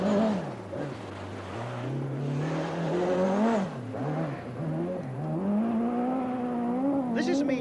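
Bjorn Waldegaard's rally car on the 1984 RAC Rally, with the engine revving up and down through several swells and dips. A loud, close, buzzing note climbs and falls repeatedly over a steady mechanical roar.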